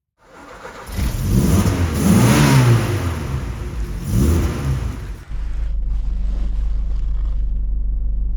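An MG Maestro engine revs hard while the car is driven, rising and falling in two strong surges before dropping to a steady, loud drone inside the cabin.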